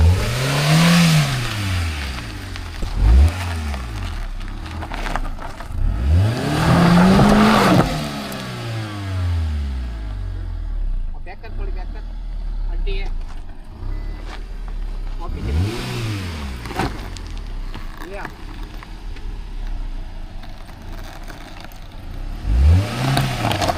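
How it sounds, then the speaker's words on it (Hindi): A car drives off-road over a broken, potholed road, its engine repeatedly revving up and easing off close by, with rattling and clatter from the rough surface. "अरे तेरी जानदार है गाड़ी। ऑफ रोडिंग हो गई।"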